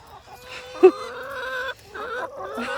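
Several chickens cluck and murmur nearby in drawn-out, warbling calls, one sharp squawk standing out among the steady clucking.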